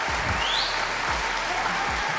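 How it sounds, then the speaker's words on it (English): Audience applause fills the hall at a teen pageant grand finale in India, a steady dense wash of clapping from a crowd, loud and continuous throughout. "A round of applause for Diya, Simran,"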